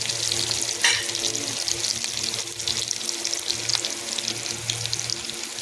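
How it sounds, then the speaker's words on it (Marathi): Curry leaves crackling in hot oil for a tadka, a loud, dense, continuous sizzle with a sharp spatter near the start, heard close and without talk. "कढीपत्ता टाकणार आहोत."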